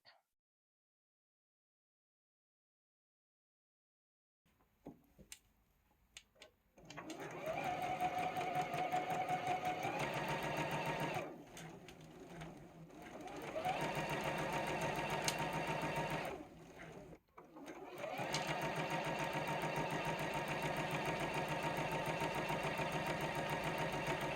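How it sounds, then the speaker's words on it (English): Sewing machine stitching a quilt-as-you-go block, starting after several seconds of near silence, then a steady mechanical whir that runs in long stretches with brief pauses between seams. "now we're going to take our next side and we're going to sew that"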